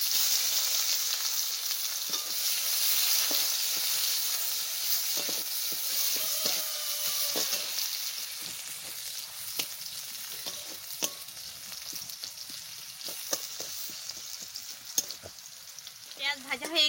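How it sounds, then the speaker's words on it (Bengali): Onions fry in a little oil with cumin seeds, giving a continuous close sizzle and hiss with frequent clicks and scrapes of stirring throughout. "লাল লাল করে পেঁয়াজ ভেজে নিচ্ছি"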